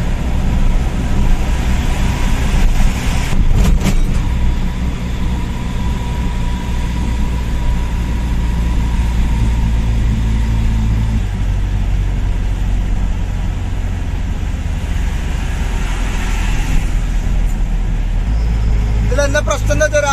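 A 14-wheel truck grinds along a forest road, its engine a loud, low, unbroken drone with shifting pitch, while a person talks over it in the cab.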